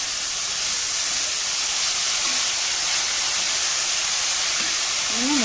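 Drained chopped banana flower added to a hot pan, producing a loud, steady hissing sizzle that holds evenly throughout, with faint background sounds.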